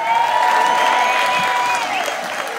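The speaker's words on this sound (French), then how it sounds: "Applaudissez pour Marie" A church audience applauds Mary at a French-language sermon, a dense steady wash of clapping with a sustained tone and scattered cheers running under it throughout.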